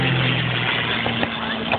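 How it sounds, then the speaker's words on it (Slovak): Simulated aircraft-style engine sound, a steady droning hum with a constant low tone that holds throughout, loud and continuous, with no talk. "zvuk tých motorov je podobný tým zvukom, ktoré sa vtedy používali"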